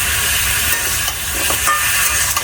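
Duck curry with potatoes in plenty of oil simmers and sizzles in a pot, a loud steady frying hiss with faint bubbling crackles and no talk.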